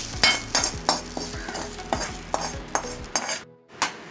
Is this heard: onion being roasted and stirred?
yes